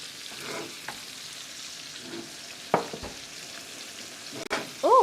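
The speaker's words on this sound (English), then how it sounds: "that's going to go straight into my pan with the leek" Onion with leek frying in a pan at dinner prep, a steady soft sizzle with occasional stirring clatters and a few sharp utensil knocks, no talk.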